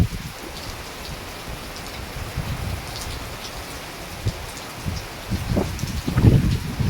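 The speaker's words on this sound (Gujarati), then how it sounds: "જબરજસ્ત વરસાદ પડી રહ્યો છે હાલમાં" Heavy rain pours down in a dense, constant wash during a lightning storm in rural Deodar, drops drumming on surfaces nearby, with no voices.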